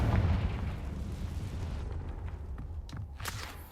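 Confringo explosive spell blast in Hogwarts Legacy: a loud, rumbling explosion opening abruptly and decaying into a long noisy roar, followed by a few sharp crackling pops, with no voices over it.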